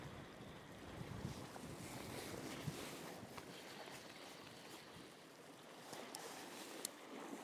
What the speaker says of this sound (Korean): 아, 바람.